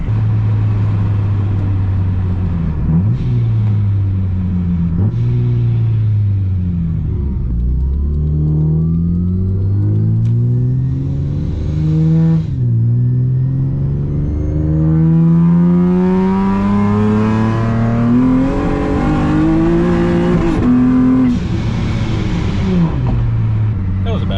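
A supercharged Acura TL Type-S revs hard with its tires spinning. The loud engine note climbs and falls repeatedly, close up, and a voice is heard over it.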